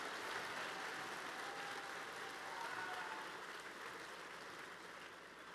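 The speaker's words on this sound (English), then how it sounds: "a big round of applause for all of the young people" Steady applause from an audience at a FIRST robotics state championship in Michigan, honouring the young competitors; a continuous, fairly faint wash of clapping that holds evenly throughout.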